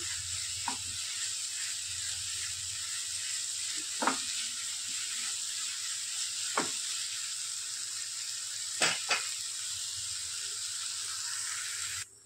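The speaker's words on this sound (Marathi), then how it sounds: "मसाला आपला परततोय." Malvani masala for a pomfret fish curry sizzles steadily as it sautés in a pan, an even hiss with occasional clinks of a spoon against the metal.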